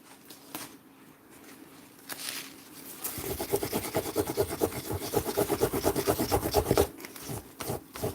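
A cloth rubbing masking fluid off photo paper, a soft scratchy rasp that builds from gentle strokes into fast, rhythmic, close-up scrubbing before easing off, with no talking.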